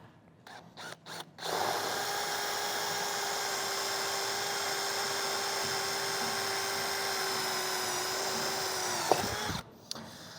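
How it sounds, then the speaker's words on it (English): A power drill whines at a steady high pitch for several seconds after a few short starts, drilling into a 2019-2023 RAM truck, then winds down and stops. "we're ready to start drilling, and just be careful, make sure the drill bit doesn't walk on you"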